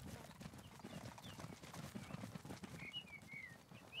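Horse trotting in the game The Valiant, rapid clip-clop hoofbeats in a continuous rhythm with a brief whinny and faint bird calls, fairly quiet.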